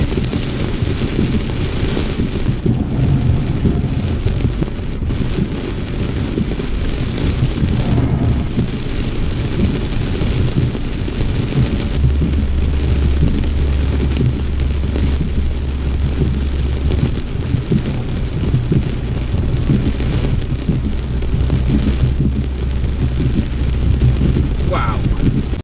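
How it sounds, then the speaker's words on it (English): Dense roar of hail and heavy rain pounding during a nighttime supercell thunderstorm in Croatia, steady and loud throughout, with low rumbling underneath and wind buffeting the microphone. "This sounds like hail. There is a strong cell."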